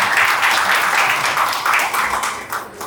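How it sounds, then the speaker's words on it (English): An audience at an arts workshop gives a table of participants a round of applause, a dense, even wash of clapping that holds steady for a few seconds before easing off. "Can we have a big round of applause for the table?"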